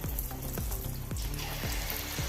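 Neyyappam batter, made without sugar, frying in hot oil as a snack, with a steady close sizzle and a few soft clicks and knocks from the pan.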